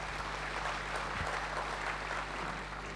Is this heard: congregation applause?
yes